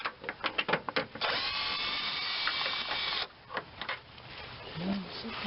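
Cordless drill spinning a 10mm socket to back out bolts on a 2005-2010 Chevrolet Cobalt or Pontiac G5 headlamp assembly: a few short bursts, then a sustained close whine for about two seconds, followed by brief clicks and handling noise.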